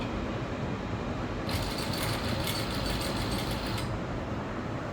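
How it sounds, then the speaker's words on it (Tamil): A sewing machine stitches along the canvas edge of a blouse neck, running steadily and close for the whole clip with a brighter, busier whir in the middle stretch. "இப்போ இந்த கேன்வாஸ் ஓரமாக தைக்கிறோம்."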